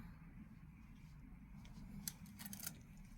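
Scissors snip fabric for a Christmas advent calendar panel, giving a few quick, faint cuts late in the clip over a low room hum, with no talk.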